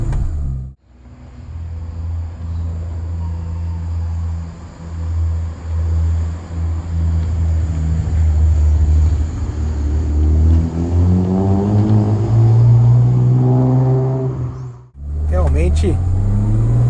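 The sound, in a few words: Ford Escort XR3 with V6 engine, exterior engine sound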